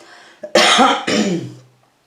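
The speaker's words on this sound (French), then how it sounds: "Je vais tousser." One person coughs hard in a few harsh bursts at close range, after a quiet lead-in, then it fades out.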